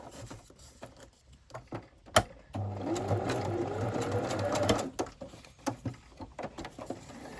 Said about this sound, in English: I am going to stitch it wonky